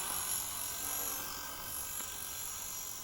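A small remote-control helicopter's rotor and motor whine steadily throughout, a continuous buzzing drone with a high-pitched tone, moderately distant.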